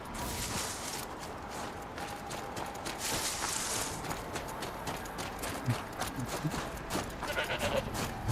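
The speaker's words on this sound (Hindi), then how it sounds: "बकरी है मेरे सामने है" Goat bleats from the video game Horizon Zero Dawn over a busy game soundscape with hoof-like clopping and scattered rustling, the calls moderately close and intermittent across the stretch.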